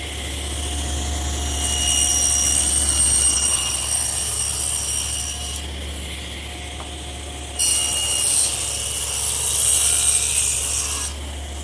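Wood panels laid flat fed through a table saw, blade height around half an inch, two long rasping cuts over a constant motor hum, with a short drop between passes.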